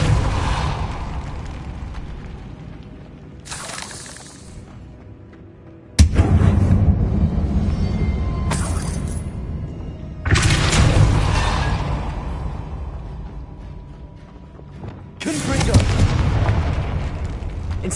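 The Incendiary fire spell from the Hogwarts Legacy video game erupts in three heavy, booming bursts a few seconds apart, each a loud rushing roar that slowly dies down between casts.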